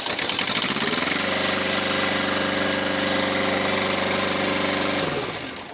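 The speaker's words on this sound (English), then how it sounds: "I'm going to shut the engine off so I don't have to talk over it" A mid-pitched engine on a Stepp SBF 200 bottom-fired kettle runs steadily with a throbbing, knocking rhythm, loud and close, then winds down near the end.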